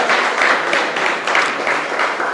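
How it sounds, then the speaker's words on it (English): A live audience applauds at a civic cultural gathering in San Fernando, with steady, dense clapping that stays fairly loud across the whole moment and shows no obvious talk over it. "Give her a last round of applause."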